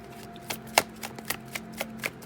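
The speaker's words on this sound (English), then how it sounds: "fast forward past the shuffling if you want" Tarot cards are shuffled by hand in quick riffling bursts, a series of crisp close-up slaps and flutters spaced unevenly over a soft steady hum.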